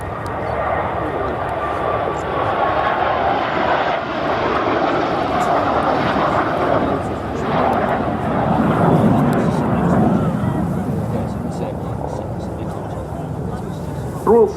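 A BAC Strikemaster and a Jet Provost, both with Viper jet engines, fly in line astern formation at a Scampton air display. A continuous loud jet roar runs throughout, with steady broadband rumble as they pass.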